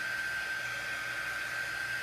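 A hair dryer blows steadily and close by, drying paste on a craft stencil for tier tray house decor; a continuous broadband whoosh with a thin whine holds at even loudness throughout, with no talking.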